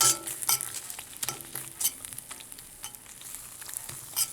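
Homemade vegan mac and cheese sauce with Daiya cheese cooking down in a pan, soft steady sizzling with occasional scrapes and stirs of a utensil, close and fairly quiet.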